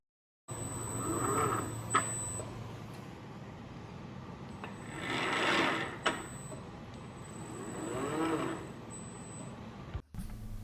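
A horizontal milling machine's motor runs steadily, with a mechanical hum and broadband whir that swells and fades as it is switched between forward and reverse, plus a few sharp clicks from the controls.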